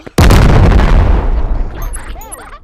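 A loud in-game bomb blast from the game Animal Company, a sudden booming burst that rumbles and fades over two seconds, with faint chirping effects trailing at the end.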